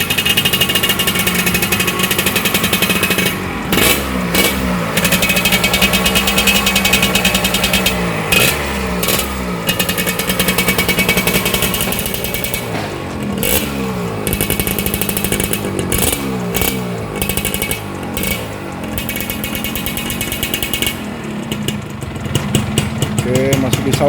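A Suzuki Satria motorcycle, kick-started and in good condition, idles with a steady, smooth engine hum that runs throughout, with people talking over it.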